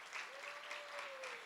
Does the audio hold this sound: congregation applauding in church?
yes